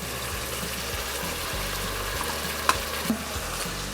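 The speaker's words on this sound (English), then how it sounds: "So let's get all this stirred up and going good." Bacon, onions and chopped jalapenos stirred in a pot for black-eyed peas, a continuous close sizzle with a rough scraping stir and a couple of brief spoon knocks near the end, no voices.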